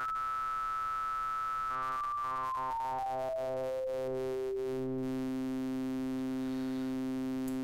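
Steinberg Halion 6 synth oscillator with hard sync sweeping through its range, a steady tone whose harmonics glide downward and crackle in between before settling on a sustained pitch, quiet and alone.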